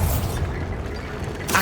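Bombarda explosion spell cast in the video game Hogwarts Legacy, heard as a dense, booming blast that rumbles for over a second, then swells into a sharper burst at the very end.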